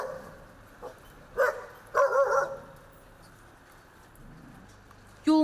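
Stray street dogs bark in a few short, sharp bursts spread across a quiet outdoor background. The barks come mid-distance, with a final loud yelp at the end.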